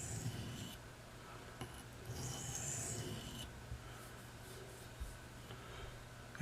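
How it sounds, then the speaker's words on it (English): A Buck 389 knife blade is drawn along a sharpening stone on one side, making faint, close raspy scraping strokes in a short irregular sequence against a quiet background. "And I'm just finding the bevel. And I'm going to sharpen one side"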